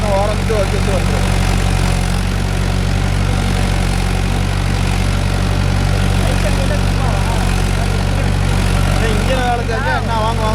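A steady low tractor engine, a Mahindra, idles continuously throughout, with a constant rumble and a faint voice or two murmuring over it.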